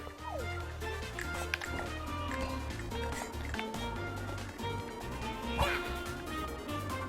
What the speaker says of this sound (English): rescue the poor puppy that has gotten stuck